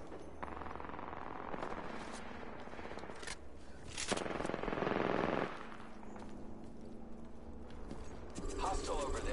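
Gunfire in the video game Apex Legends: rapid automatic bursts and single shots close up, with a louder sustained volley midway, over game sounds and a voice talking.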